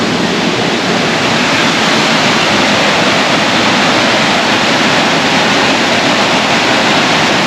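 Nawadaha Falls roars as a dense, steady wash of rushing water over rapids, loud and close, with no voices.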